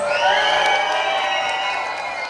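A crowd cheers and whoops aboard the Disney Wonder cruise ship after the captains Minnie and Mickey Mouse are introduced, a loud sustained roar with children's shouts mixed in.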